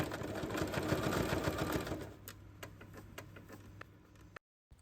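Sewing machine top stitching half a centimeter from the edge of a small handbag, a fast dense whir for about two seconds that slows into separate ticking stitches before cutting out.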